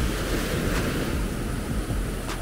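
Surf washing onto Red Frog Beach, a steady broadband roar of breaking waves with wind rushing across the microphone, continuous and fairly loud with no talking.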